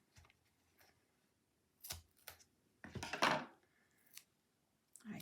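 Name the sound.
cutting a thin piece of tape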